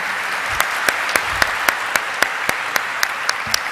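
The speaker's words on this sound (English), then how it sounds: "And that calls for a huge round of applause," Audience applause at the Mankind Pharma Limited listing ceremony at the NSE, steady clapping from a crowd with a few sharp, evenly spaced louder claps standing out over the even wash.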